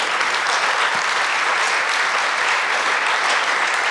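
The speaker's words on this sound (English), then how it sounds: "Let's give her another round of applause for" Steady, full applause from an audience at an investor summit, a dense continuous wash of clapping with no break and no voices over it.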